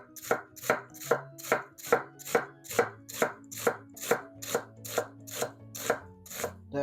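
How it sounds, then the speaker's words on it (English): Knife shaving a red onion thinly on a cutting board, about fifteen steady, evenly spaced chops in a brisk rhythm, close and clear with no talking. "we'll finish up our knife work by just shaving a red onion nice and thin"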